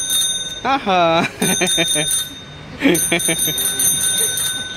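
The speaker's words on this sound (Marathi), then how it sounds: "वाजव बरं घंटी।" A small bell, apparently on a child's birthday toy, rings with sustained bright metallic tones that linger throughout while voices talk over it.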